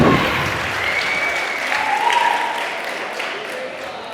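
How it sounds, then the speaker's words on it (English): Wedding guests at an evening reception give loud, continuous applause for the couple's first dance, a dense crowd clapping steadily throughout with faint music or voices in the background. "let's have a nice big round of applause for Laura and Kevin celebrating their first dance here this evening."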